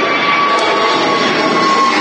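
An EasyJet airliner rolls out at Manchester Airport, its jet engines giving a loud, sustained roar with a steady whining tone that holds throughout, with no talk.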